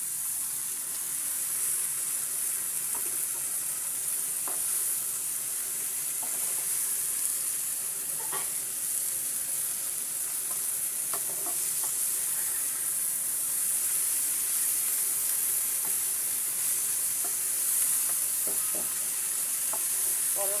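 Bitter gourd stir-frying with shrimp in a pan over low to medium heat, a continuous even sizzle with occasional soft scrapes and taps of a stirring spoon, close and steady, no talking.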